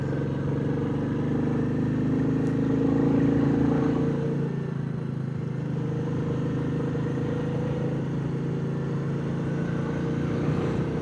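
A Royal Enfield Meteor 350 motorcycle on new Metzeler Roadtec 01 tyres rides along a road, its engine a steady low drone mixed with wind rush that holds evenly throughout.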